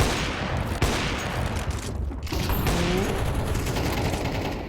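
Gunfire exchange in a Counter-Strike match on the Vertigo map, with dense broadband crackle of shots and mechanical clatter running steadily through the clip, loud and continuous.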